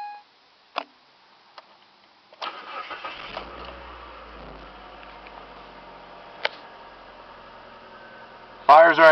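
A 2002 Mazda Protege5 engine cranks and catches after a few clicks, then settles into a steady idle, with a louder burst near the end.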